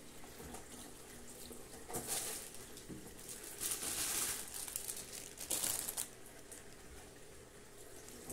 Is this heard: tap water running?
yes